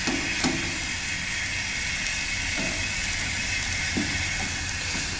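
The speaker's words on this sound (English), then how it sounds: "why am I cooking it on a Coleman stove?" A Coleman camping stove burns with a steady broad hiss close by, a constant roaring rush throughout, with a few faint clicks and knocks scattered over it and no talking.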